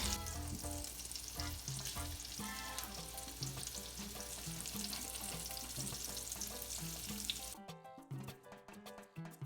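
Black bean cakes fry in a pan with a dense, continuous sizzle and crackle. Faint tonal background music plays underneath, and the frying noise drops away near the end.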